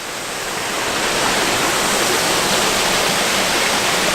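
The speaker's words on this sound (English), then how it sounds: "Gorgeous couple of sets of waterfalls" A steady, loud rush of falling water from a series of waterfalls fills the whole clip, a dense continuous roar with no voices.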